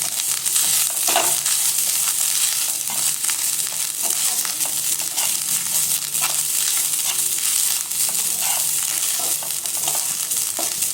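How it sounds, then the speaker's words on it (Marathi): Grated coconut stirred as it roasts in a pan for coconut rice, giving a steady close sizzle with repeated scraping and stirring strokes throughout, no voices. "आता आपल्याला याच्यामध्ये हा 1 वाटी खोबरं आहे ना ते टाकून घ्यायचं आहे आणि हे छान हलवून घ्यायचं आहे."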